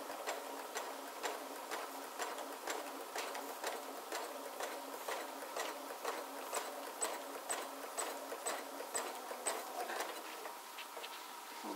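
A sewing machine runs steadily through free motion quilting, its needle ticking in a fast, even rhythm throughout with a faint mechanical whir, close up and without voices.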